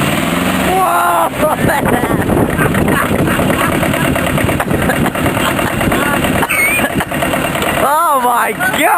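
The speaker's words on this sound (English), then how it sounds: "when you finally get on the tractor and try to start it, and you press go, it starts." A tractor engine fires up and keeps running, a loud, close mechanical chugging and rattle that holds steady, with excited voices talking over it and rising toward the end.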